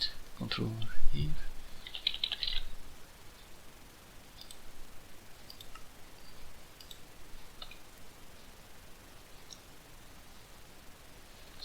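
Soft clicking keystrokes on a computer keyboard, a quick cluster near the start, then sparse faint taps over a quiet background.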